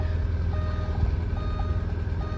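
Inside an Alfa Romeo 115 Spider Veloce S4, a few soft electronic warning tones sound over the close, steady rumble of the running engine.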